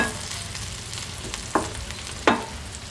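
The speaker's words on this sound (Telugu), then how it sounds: "ఇది కూడా బాగా నూనెలో మగ్గనిచ్చి" Drumstick leaves frying in oil give a constant, loud sizzling hiss up close, broken by two brief scraping stirs near the end.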